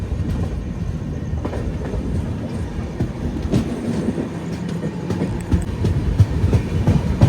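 Passenger train running near Koduru railway station, a steady close rumble with rhythmic clickety-clack of wheels over rail joints throughout, slightly louder toward the end.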